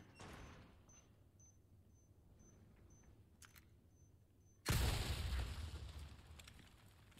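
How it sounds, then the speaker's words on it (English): A large explosion in a video game bursts in suddenly as a loud, broad roar that slowly decays, after a quiet stretch holding faint intermittent beeps. "That was a very big explosion."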